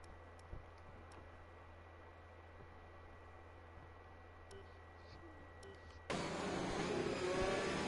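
A Formula 1 racing car in the F1 video game at Italy accelerates as the safety car period ends. Near-silence gives way to a sudden loud, sustained engine roar for the final two seconds.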